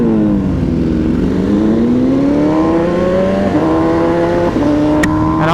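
An MV Agusta Brutale R motorcycle engine revs hard and close, its pitch climbing steadily through the gears with brief dips at each shift.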